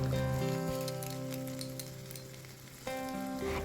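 Ginger and garlic paste sizzles in a pan with already-fried onions for a cashew chicken curry, a steady hiss that swells again near the end, under background music.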